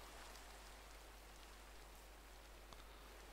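Steady, continuous rain in the Minecraft video game, a soft even hiss of falling drops with a faint isolated tick, heard quietly on its own with no talking.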